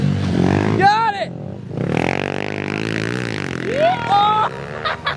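A small pit bike engine on a homemade supercross track revs in two sharp rising bursts, one early and one near the end, with voices shouting and talking over it.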